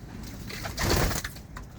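Pigeons in a loft coo softly and close by, a short rising-and-falling burble that swells in the middle and fades, with faint background noise.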